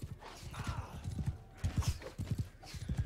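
Horses gallop in Mount and Blade Bannerlord, hooves pounding in quick, uneven clusters of clip-clop beats at moderate distance, with occasional faint whinnies and no talking.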